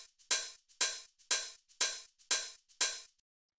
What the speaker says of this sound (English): So what these are is actually I have a shaker as one of the hi-hats